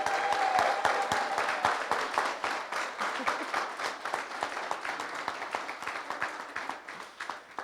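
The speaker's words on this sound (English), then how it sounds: "how about one more round of applause for the nearly-weds?" Wedding guests applauding at a celebration, a dense round of clapping from a sizable crowd that starts strong and gradually thins and fades over several seconds.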